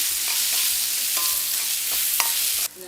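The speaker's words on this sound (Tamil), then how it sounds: "மெல்லிய நெருப்பில் விடுவோம். மெல்லமாக வதங்கட்டும்." Fennel seeds and green chillies sauté gently in a pan over a low flame, giving a soft steady sizzle with a few light scrapes of a stirring spoon.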